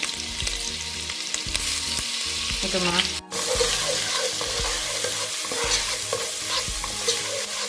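Green chilli, ginger and garlic sizzling in hot oil in a pan, a steady close frying hiss broken by repeated scraping stirs and one brief clatter partway through.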